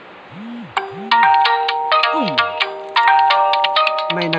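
A phone's text-message ringtone plays a bright electronic melody of quick, stepped chiming notes, loud and close, starting after a couple of short tonal blips and running to the end.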